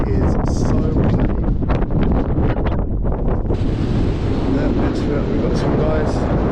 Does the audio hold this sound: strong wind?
yes